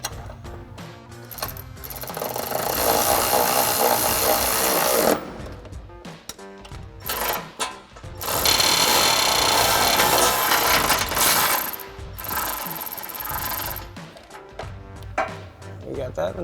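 A power tool tightens step bar brackets under a Jeep Wrangler JL, running in several loud, rattling bursts of a few seconds each, separated by short pauses.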